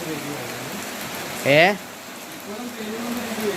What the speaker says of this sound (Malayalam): ഇപ്പോഴും പെയ്തുകൊണ്ടിരിക്കുകയാണ് മഴ.